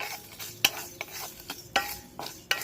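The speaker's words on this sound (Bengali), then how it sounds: "সবকটা হালকা করে ভেজে নেব হালকা করে এরকমভাবে কড়ার মধ্যে নেড়ে নেব" Whole spices and bay leaves are stirred and lightly fried in a wok, with a soft sizzle under sharp, periodic clinks and scrapes of the spoon against the pan, heard close and fairly quiet.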